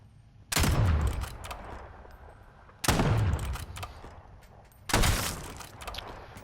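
Three loud sniper rifle shots in a first-person shooter video game, each a sharp crack followed by a booming tail, spaced about two seconds apart with no talking.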